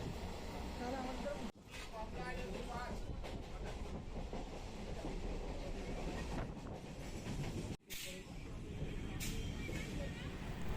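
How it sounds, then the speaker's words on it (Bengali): A passenger train running between Kolkata and Memari rumbles and rattles steadily, a loud continuous carriage noise with brief clicks, and voices talk in the background of the coach. "ট্রেন ছেড়ে দিল।"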